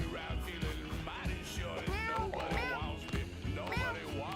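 Cats meow in the video game Mewgenics, several short rising and falling cries coming in quick succession over a busy game soundtrack while a person talks.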